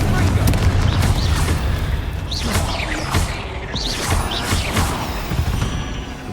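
A Confringo blasting spell goes off in Hogwarts Legacy, loud booming bursts and crashing debris rolling through the whole scene, with voices shouting spells over the din.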